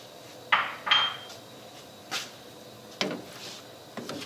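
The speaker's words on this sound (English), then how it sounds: "Mix everything together." Curry ingredients for a vegan butter cauliflower curry get stirred together in a pan, a handful of clinks and scrapes of a utensil against metal spaced apart, fairly faint and without talking.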